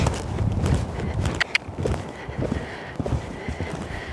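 A horse's hooves clop on the ground in an irregular walking rhythm, fairly close, with rustling and stable noise around them.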